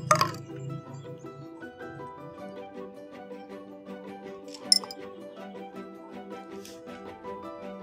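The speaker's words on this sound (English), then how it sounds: "Next, I will put the nail." A nail drops into a glass holding water and oil, giving a sharp clink at the start and another bright ping a few seconds later, followed by a faint lingering ring in a quiet room.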